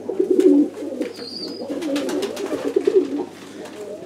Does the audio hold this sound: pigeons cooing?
yes